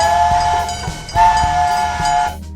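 Train whistle sound effect: a sustained steam-style whistle sounding in two long blasts over the rhythmic clatter of rolling rail cars, loud and close.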